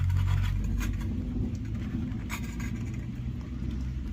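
A titanium wood-burning stove with its door open gives a steady, close, low roaring rumble that keeps going without a break.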